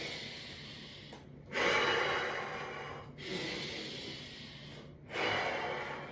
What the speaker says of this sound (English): taking some nice big breaths in through your nose and then forcefully out through your mouth.